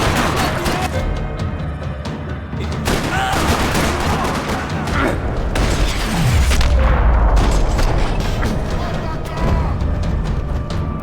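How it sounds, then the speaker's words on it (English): Dense, rapid gunfire rattles continuously with booming impacts mixed in, loud and chaotic in a Max Payne 3 firefight in a parking lot, with voices partly buried underneath. "Another parking lot rattling with gunfire."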